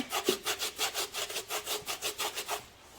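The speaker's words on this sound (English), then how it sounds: "we're gonna take a dry napkin, and we're just going to start rubbing off some of the dirt" A dry napkin rubs loose dirt off a dried clay vase in steady back-and-forth strokes, about a dozen even scrubbing swishes in a close, dry rhythm with no talking.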